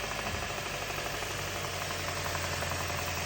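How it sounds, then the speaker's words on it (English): A car engine idles with a steady, close-up knocking rattle that runs evenly under the low engine drone throughout. "this noise is actually coming from the engine"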